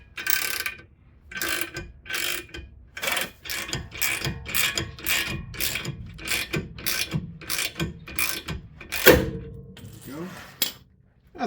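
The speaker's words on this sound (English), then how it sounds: "So we've got a 19 on a long handle ratchet." Rapid clicking of a long-handle ratchet with a 19 mm socket turning a nut on a 2008 Acura MDX front axle, worked in quick back-and-forth strokes, loud and close, with a few heavier clunks near the end.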